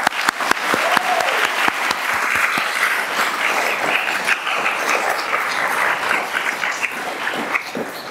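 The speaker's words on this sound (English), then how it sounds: "a round of applause" Applause from a university convocation audience, opening with a few sharp, separate claps that quickly swell into a steady, full wash of many hands clapping, sustained evenly throughout.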